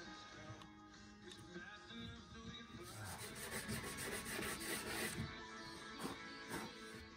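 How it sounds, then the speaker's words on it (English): Sandpaper of 120 grit rubbing along plywood edge banding on a Baltic birch under-bed cabinet in a van build, a steady close scratchy rasp with repeated strokes that grows busier and louder midway. "120 sandpaper cleans up the edges really nice."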